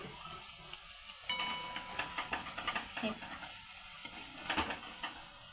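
Onions and garlic frying in a pan, a soft continuous sizzle under repeated light scraping and stirring taps, close and fairly quiet, without speech.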